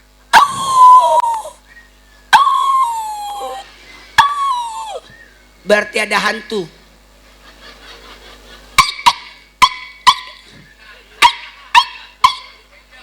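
A man giving a sermon imitates a dog with his voice, drawing out howling whines and then letting off a run of sharp, loud barks. A few spoken words come in between.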